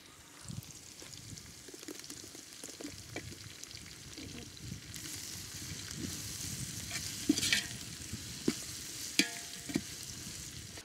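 Cut green chillies sizzle in hot oil in a pan for a village-style country chicken curry, a steady close frying hiss with scattered crackles and stirring scrapes, growing louder and sharper toward the end.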